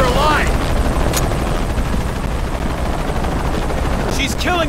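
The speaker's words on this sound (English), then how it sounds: "Always hated helicopters." Helicopter in the video game Shadow of the Tomb Raider, a loud, steady rotor roar filling the whole stretch, with faint brief higher sounds near the start and end.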